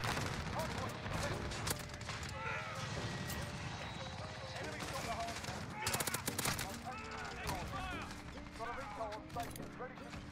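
Sustained automatic cannon fire from a VTOL killstreak in Modern Warfare, rapid bursts of gunshots layered with distant fusillade over game noise, with a player talking throughout.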